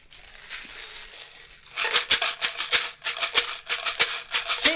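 Pinto beans rattle in a homemade plastic-container shaker: a soft, sparse shuffle at first, then loud, crisp rhythmic shakes pulsing several times a second, close and alone with no voices.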